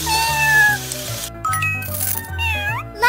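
A cartoon cat meows repeatedly in the Power Girls Super City game, its high, wavering cries sounding loud and close over a looping synth music bed.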